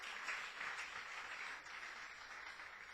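Congregation at a church service applauding, a faint, even wash of many hands clapping with no talk.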